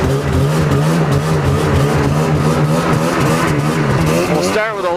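Yamaha VMAX motorcycle idling just after a cold start on full choke, a loud, close, steady engine throb with a slight rev near the end while someone talks over it.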